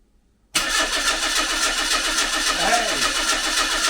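The starter motor of a Mazda MX-5, energised through a wire touched by hand, cranks the engine: after half a second of quiet, a loud continuous churning rhythm starts and keeps going to the end, up close.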